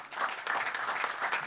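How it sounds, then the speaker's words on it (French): Audience applause for the host at a technical conference on additive manufacturing, a brief burst of many clapping hands rising quickly and holding steady without speech. "On peut applaudir Carole."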